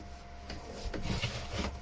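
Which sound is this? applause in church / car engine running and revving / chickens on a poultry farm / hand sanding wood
hand sanding wood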